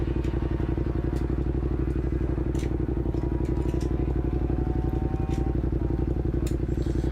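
Motorcycles doing wheelies on a Bronx street give a steady, loud rumbling engine drone with a few faint clatters, heard from nearby inside a car, with no talk over it.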